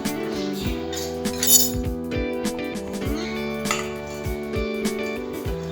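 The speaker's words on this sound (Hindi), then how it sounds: "और मैं इसे इस जार में डाल देती हूँ।" Repeated clinks of a utensil against glass and a steel container as kachori filling is spooned into a mixer jar, with a steady hum underneath and no talking.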